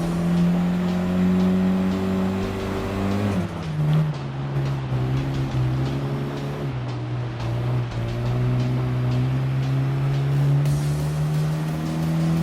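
A Lancia Delta's engine drones loudly and steadily as it races off-road on dirt in Gran Turismo Sport, pitch dropping with a gear shift partway then climbing slowly again, with no talking.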